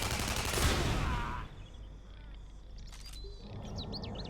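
Rapid automatic weapon fire in the Tribes: Ascend video game, a dense burst in the first second and a half, then quieter scattered shots with bright chirping tones over a steady background hum.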